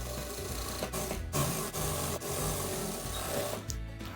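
A sewing machine stitches a bias piece for a three-tier summer frock, running in a steady continuous whir with a few brief pauses, close and fairly loud with no talk.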